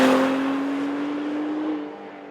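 A 2017 Acura NSX launches from a standstill toward 60 mph, its engine note holding a steady droning pitch that slowly climbs, loud and close at first and then easing off.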